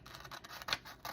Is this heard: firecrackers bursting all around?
no